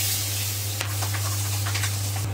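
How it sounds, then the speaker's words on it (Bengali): Spices tempering in hot oil for sambar, a steady close sizzle and hiss with a constant low hum beneath and a few brief crackling spits. "বন্ধুরা আমি ফোড়ন দিয়ে দিচ্ছি"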